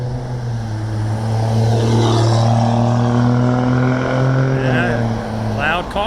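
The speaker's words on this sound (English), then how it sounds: "loud car" A loud car passes through a residential street in Harrison, New Jersey, its droning engine with strong low harmonics swelling, holding steady and close, then dropping away near the end.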